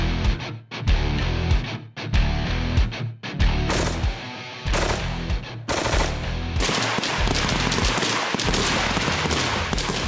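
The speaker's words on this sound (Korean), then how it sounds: "(50명의) 사수들이 한꺼번에 뿜어내는 총성이 야교대에 가득 울려 퍼집니다." Rapid, dense gunfire from a large group of shooters firing at once at a training range rings out loud and continuous, bursts overlapping with brief gaps, with no talking.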